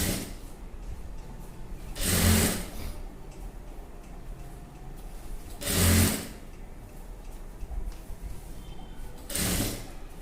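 A sewing machine stitching double-cloth piping onto a dress neckline runs in three short bursts, each a couple of seconds long, separated by quiet pauses with a faint ticking in between.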